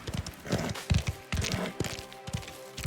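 Galloping horse hooves in the game Mafia The Old Country, a fast irregular clatter of hoofbeats close by with a faint whinny and background game noise, no talking.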